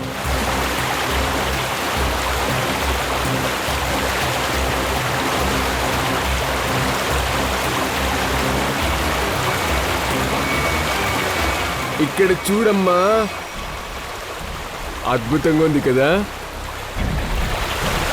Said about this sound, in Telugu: చూసావా, వాటర్ ఫాల్స్కి వచ్చేసాం.